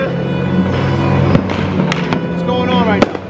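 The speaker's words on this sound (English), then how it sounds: "Look, fireworks over there." New Year fireworks in the Philippines crackle and pop at a distance, a few sharper bangs standing out over a steady low hum, with voices speaking in the background.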